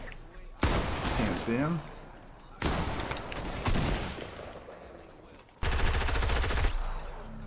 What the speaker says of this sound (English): Oh, I hear more shooting.